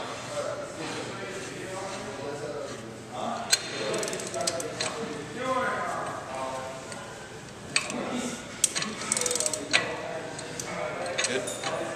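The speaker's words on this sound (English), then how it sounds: "Now you put the adjusting nut back in and torque it down to 200 foot-pounds." A torque wrench ratchets as an adjusting nut on a rear axle bearing is tightened down to 200 foot-pounds, giving irregular mechanical clicks and a few sharp ticks over a steady workshop background.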